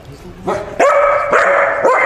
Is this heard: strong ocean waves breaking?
no